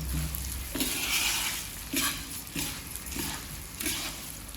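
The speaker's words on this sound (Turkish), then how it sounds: "annem bulgur da kızarttı arkadaşlar. Biraz kavurdu" Steady sizzling of bulgur frying in a pan, with periodic scraping stirs every second or so, close and moderately loud.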